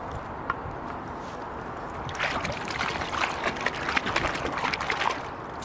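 Washing-up liquid being stirred into a bath of cleaning water, a soft continuous sloshing and trickling that grows busier and louder partway through, with no talking.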